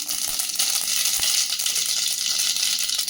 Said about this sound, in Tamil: ஆயில் விட்டுட்டு கடுகு போட்டுக்கோங்க.